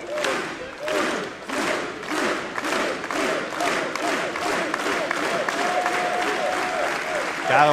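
A wrestling crowd applauds in respect after a bout, a loud, rhythmic wave of clapping and cheering that fills the arena and builds toward the end, with voices mixed in.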